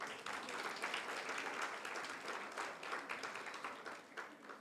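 A workshop audience gives a round of applause, steady dense clapping from many hands heard at a moderate distance and fairly faint, holding even throughout.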